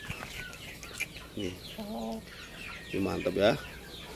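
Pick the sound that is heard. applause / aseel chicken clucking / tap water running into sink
aseel chicken clucking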